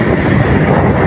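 Strong, steady wind battering the microphone outdoors in the Philippines during the hot amihan season, a continuous loud broadband roar with no break and no talk.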